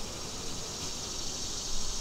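A dense, steady buzz of many honeybees fills the air, a close continuous hum with no pauses and no voices.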